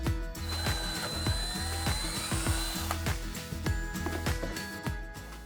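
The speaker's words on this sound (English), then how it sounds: "now that we have our holes marked out, we're going to start drilling" Power drill fitted with a wood bit boring into wood, a steady whining motor with rhythmic pulsing bites, fairly close and continuous with no talk.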